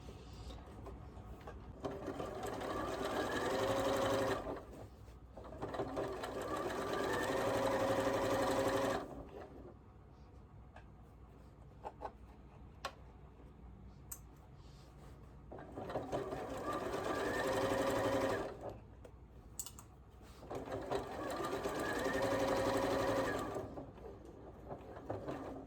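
Domestic sewing machine stitching fabric for a panettone holder, running in four sustained buzzing stretches of a few seconds each, with quiet pauses, clicks and fabric handling between them.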